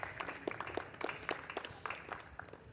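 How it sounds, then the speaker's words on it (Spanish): Sparse, faint clapping from a church congregation during a sermon, scattered individual claps arriving in an uneven patter rather than a full ovation. "Aplauden, por favor"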